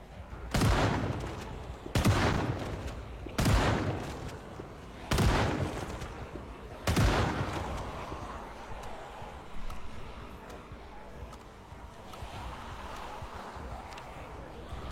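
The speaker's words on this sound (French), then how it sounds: "On va commencer à faire les premiers tirs, ils sont assez bien regroupés là." Gunfire in the video game Project Zomboid, five loud, close shots spaced roughly one and a half seconds apart, followed by quieter rumbling and a faint later burst.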